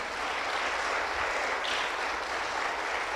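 A church congregation clapping together in praise, a dense steady wash of applause that carries on evenly throughout.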